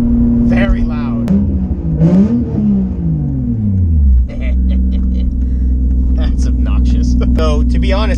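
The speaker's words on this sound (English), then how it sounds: "this car is very, very loud" A loud, rumbling engine of a turbocharged Toyota Supra idles close by, revving up and down with a rising and falling pitch, steady and dominant throughout.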